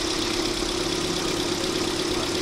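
Hyundai Grand i10 engine running with a crankshaft knock, a steady close mechanical rumble with a rapid repetitive ticking beat layered over it.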